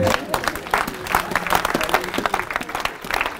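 A church congregation claps and cheers together during a sermon, a close, busy burst of applause mixed with overlapping voices.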